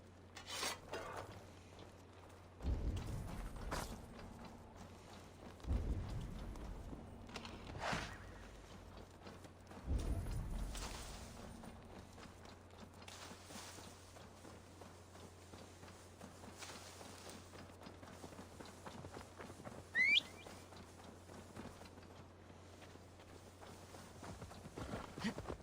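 Horse hooves clip-clop in Assassin's Creed Valhalla, a few soft bursts of steps early on over a quiet low hum, fading into faint scuffing, with no talking.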